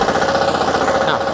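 A mini four-wheel tractor runs in second gear while plowing, its engine giving a steady, close, loud drone with a rough mechanical rattle and no pauses.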